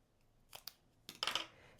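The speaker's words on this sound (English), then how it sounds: "Bring in my scissors." Scissors snipping paper strips for handmade cards, a few short close crisp cuts, quiet and spaced out in a silent room.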